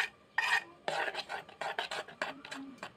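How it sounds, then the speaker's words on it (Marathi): Dhokla batter of rice and chana dal with a little turmeric is beaten in a bowl, giving a run of quick scraping, slapping strokes in uneven bursts, close and fairly loud. "हे सगळं बॅटर एकदम मस्त त्याचं असं फेटून घ्यायचं"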